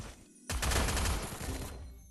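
A rapid burst of automatic gunfire in a video game rattles loudly for over a second, sharp and continuous, with no voices.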